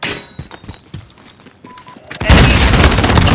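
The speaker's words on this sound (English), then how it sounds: "Throwing grenade!" In Call of Duty Modern Warfare team deathmatch, scattered gunfire and thuds lead into a grenade blast that erupts into a loud, sustained roar of explosion noise.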